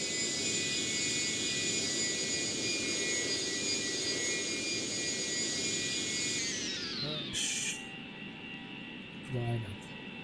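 Jet engine of an aircraft in a video game roars loud and steady with a high whine, then spools down during a crash landing, with a few thumps near the end.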